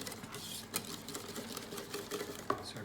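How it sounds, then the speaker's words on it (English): A whisk beats dry ingredients of cocoa powder, sugar and salt into wet ingredients for a vegan chocolate cake, giving a fast, continuous rattling patter against the bowl with a few sharper clinks, close and moderately quiet. "I'm going to whisk this into my wet ingredients."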